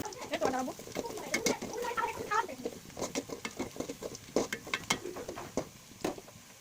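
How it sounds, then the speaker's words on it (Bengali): Whole spices, pieces of cinnamon, cardamom pods and bay leaves, are stirred and fried in a pan, with soft scraping, faint sizzling and intermittent ticks and knocks of the spoon at an irregular pace. "মশলা দেওয়ার পর আরও কিছুক্ষণ নেড়েচেড়ে এগুলোকে ভেজে নিব।"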